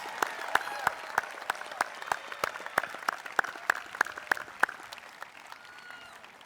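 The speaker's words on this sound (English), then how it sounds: "Graduates, let's give them a round of applause." A graduation audience at a high school ceremony claps at a brisk, even pace, with distinct individual claps standing out over a thinner bed of applause that tapers off near the end.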